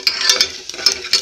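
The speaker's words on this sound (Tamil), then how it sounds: "கடுகு நல்லா வெடிச்சிடுச்சு, உளுந்தும் நல்லா செவந்திருக்கும்." Mustard seeds, urad dal and asafoetida fry in hot oil for vangi bath, crackling and popping in quick, irregular bursts close to the pan.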